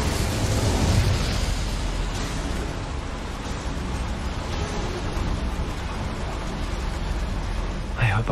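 Incendio fire spell lighting boilers in Hogwarts Legacy: a steady, roaring whoosh of flame that holds loud and broadband for several seconds, with a brief burst near the end.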